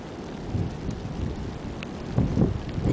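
A thunderstorm with heavy rain on a New Zealand beach: a dense, steady rush of rain with low rumbling swells that grow louder toward the end, and no voices.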